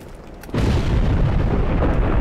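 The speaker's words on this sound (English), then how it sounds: "that's a thunder sound effect, I recognize it." A thunder effect in the game Black Mesa bursts in suddenly as a loud, close, broad rumbling roar that holds steady to the end.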